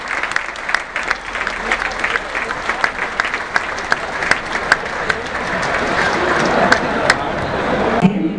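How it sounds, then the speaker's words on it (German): Crowd at the Gerhard Hanappi football stadium in Vienna applauds loudly, a dense sustained clapping roar with sharp individual claps and some whistles, building slightly toward the end. "Heftiger Applaus für Nummer 4"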